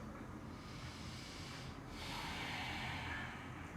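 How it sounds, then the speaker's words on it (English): A slow, deep Ujjayi yoga breath taken during a full body flow practice: a steady, close airy hiss that continues for several seconds and swells slightly in its second half, with no talking. "Now take a deep, long Ujjayi breath."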